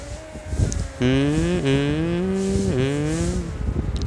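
A motorbike engine in the mobile racing game Real Bike Racing drones steadily with rising and falling pitch as it revs, a synthetic-sounding whine, loud and continuous.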